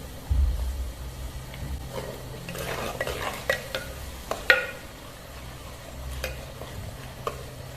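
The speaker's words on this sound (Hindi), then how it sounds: "अभी हम डाल देते हैं अदरक और लहसुन का जो पेस्ट बनाया था, कूट के रखा हुआ था, वो डाल देते हैं" Ginger-garlic paste goes into browned onions in a pot for kadhi pakora, setting off a soft sizzle. A spoon scrapes and knocks against the pan in uneven bursts as the mixture is stirred, with no voices.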